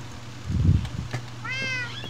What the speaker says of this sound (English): Shut up, you damn cat!